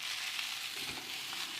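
Homestyle Chinese fried rice sizzling in a pan as it is mixed, a steady close hiss with a faint soft scrape partway through.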